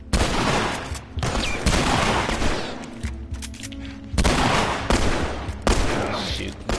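Gunfire in The Last of Us Part II, loud bursts of rapid shots in several clusters separated by short pauses, close and harsh, with faint voices in between.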